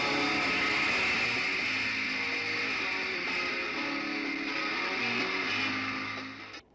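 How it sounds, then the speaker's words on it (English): Beatles fans screaming inside the Cow Palace in San Francisco, a dense, loud wall of high-pitched crowd shrieks that holds steady throughout and cuts off abruptly at the end. "The next sound you hear will be that unique Beatle scream"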